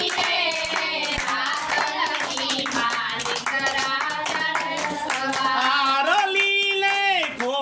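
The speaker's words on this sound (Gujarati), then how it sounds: "તાળીઓ પાડો બોલો નહીં તો તાળી પાડો" Hands clap in a steady rhythm along to a Gujarati devotional garba song honoring Randal Ma, the claps crisp and continuous over loud singing and music.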